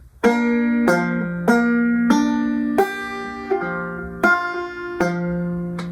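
Seven plucked banjo notes ring out one after another at a moderate, slightly uneven pace, each bright attack decaying before the next, with no voices.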